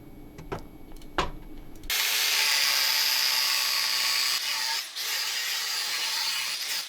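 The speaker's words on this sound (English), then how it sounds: "see how long it takes to cut it open with a good old-fashioned angle grinder" An angle grinder cuts into a metal object after a few handling knocks. It gives a loud, steady high-pitched screech for several seconds, with a brief dip midway as the cutting wheel bites and eases.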